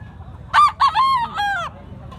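A pumpkin stag rooster with blue legs crows once up close, a clear multi-part call lasting over a second, heard alone against faint background noise.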